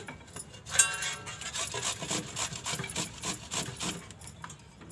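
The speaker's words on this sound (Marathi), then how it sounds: "हा कोवळा असल्यामुळे आता या किसणीवर किसून घेते" Tender bottle gourd being grated on a hand grater, a steady run of dry rasping strokes at close range with no talk over it.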